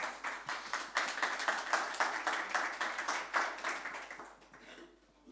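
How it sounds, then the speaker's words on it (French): Applause from a small audience at the close of a presentation: dense hand clapping for several seconds that thins and fades out at the end, heard alone. "Jean-Marie, tu peux applaudir."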